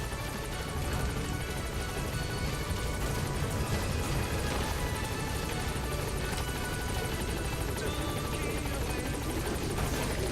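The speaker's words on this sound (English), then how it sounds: "Support helicopter has arrived." Support helicopter arriving in Metal Gear Solid V, a steady loud rotor roar and engine drone filling the whole stretch without letup, game music and effects layered underneath.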